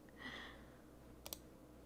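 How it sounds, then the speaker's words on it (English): A computer mouse giving two quick, faint clicks in close succession near the end, with a soft tonal murmur and quiet room noise before them. "I'm just clicking."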